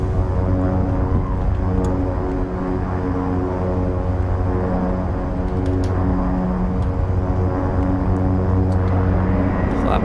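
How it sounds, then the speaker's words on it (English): A Beechcraft King Air 350 taxiing in the X-Plane 11 flight simulator, with a loud, steady turboprop drone and droning engine tones throughout. "let's take the brake off and continue with our taxi"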